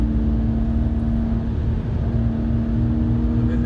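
A race car engine holds full throttle on the Nordschleife, a loud, steady onboard drone with a constant pitched whine and rumbling road noise, close and continuous without talk.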